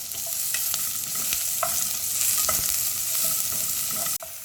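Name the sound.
chopped onions frying until golden for mushroom curry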